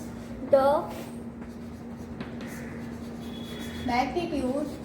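Chalk or marker scratches on a classroom board over a steady hum, with two short bursts of writing near the start and end and a voice faintly in the background.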